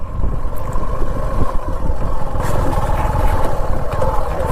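A motorcycle rides along a forest path, its engine a steady, close drone that holds without a break.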